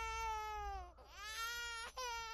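An infant cries in a wailing, sobbing pattern as a sound effect in a spoken Japanese ghost story, fairly faint and alone, with rising and falling pitch and brief catches between wails.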